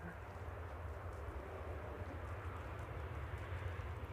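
A passenger jet arriving from Palma touches down at Manchester Airport, a distant, steady low rumble of engines and rolling roar heard from afar, even and unbroken, with no voices.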